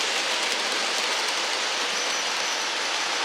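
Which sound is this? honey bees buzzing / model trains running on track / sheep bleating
model trains running on track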